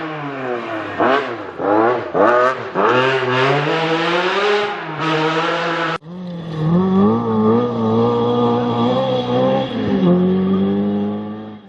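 A Lancia Stratos historic rally car blasts along a rally stage, its engine loud and close, revving up and down in quick bursts with gear changes, then settling into a sustained high-revving roar.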